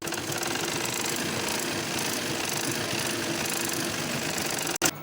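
A sewing machine stitching a seam on dhoti salwar fabric, running as a dense, steady mechanical rattle close by for about five seconds, then stopping briefly with a click near the end; no speech.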